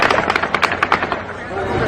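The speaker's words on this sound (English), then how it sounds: "At 10:14 and 49 seconds, the 11th volley begins." Volley of automatic gunfire from the Mandalay Bay shooting, heard as rapid crackling bursts of shots in a fast uneven rhythm, echoing and somewhat distant, with voices shouting over them.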